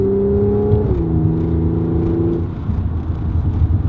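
A supercharged 2013 Audi S5 engine revs loudly through a quick downshift, its steady drone dropping in pitch at about one second and holding before falling away to a lower rumble, close and alone without talk.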